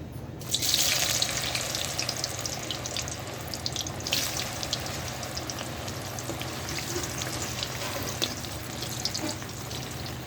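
Boiled elephant foot yam pieces deep fry in hot oil with a steady, dense sizzle and crackle that holds fairly evenly for about ten seconds.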